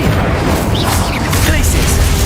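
Incendio fire spell cast in the video game Hogwarts Legacy, a loud, continuous rumbling burst of magical fire and impacts during combat, with a player talking over it.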